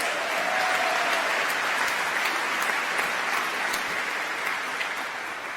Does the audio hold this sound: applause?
yes